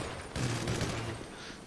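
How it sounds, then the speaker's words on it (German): Bursts of automatic gunfire in GTA 5 Online, a rapid rattling fusillade that swells after a brief quieter opening and keeps going at a steady, fairly loud level to the end, with no talk over it. "Die schießen irgendwie immer nur auf mich"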